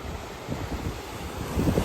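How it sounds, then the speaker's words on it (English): Sea waves and wind on the Cornwall coast near St. Buryan, a steady broadband rush of surf with gusty wind buffeting the microphone, swelling louder near the end, no voices. "Listen to the sea, the wind."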